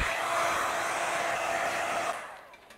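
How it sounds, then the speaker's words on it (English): Heat gun blowing steadily at close range while residue is cleared from a car body panel before glue pulling a dent, a continuous airy roar that tapers off at the end. "get rid of all the residue with heat source, whether it's a burner or heat gun"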